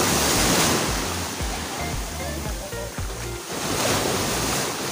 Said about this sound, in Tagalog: malakas-lakas po yung alon